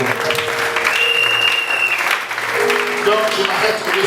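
A church congregation breaks into loud sustained applause, dense clapping with cheers and voices mixed in, close and filling the room throughout.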